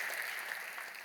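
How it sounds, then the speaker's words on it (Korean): Church congregation clapping to welcome visiting groups at a Korean church gathering, a soft, distant, continuous patter of applause heard faintly across a large room. "크게 박수로 환영하시죠."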